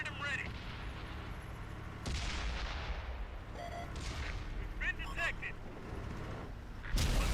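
Tank cannon fire from a World of Tanks console match: sharp, loud blasts at the start, around two seconds and near seven seconds, plus smaller crackling hits between them, all over steady low battle rumble.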